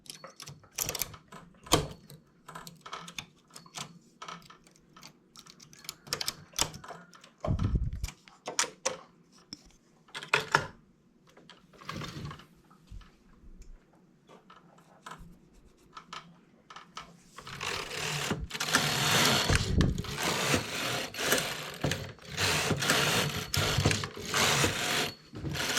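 A knitting machine carriage is worked while finishing a V-neck, giving irregular mechanical clacks and sliding rattles with pauses, then a denser, louder run of rapid clattering in the last stretch.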